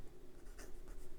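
A Gioia Partenope Fiamma fountain pen with a broad number 6 steel Yovo nib writes on Clairefontaine 90 gsm paper, giving a soft, continuous scratchy glide with faint rhythmic strokes and a low background hum.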